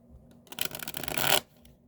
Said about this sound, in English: I almost shuffled my cards backwards.